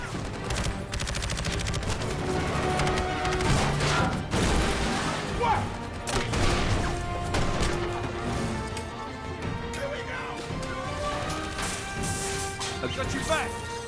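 Gunfire in an Expendables film jungle ambush, with dense bursts of shots and sharp impacts over a loud, busy action soundtrack and music.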